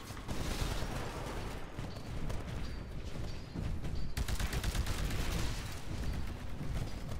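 Bursts of rapid gunfire and explosive shots in Titanfall, dense and continuous with mechanical clatter, fairly loud throughout.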